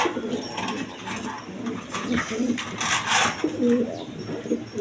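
A pair of grizzle pigeons coo in soft, rolling bursts close by, with faint chirping and rustling in the background.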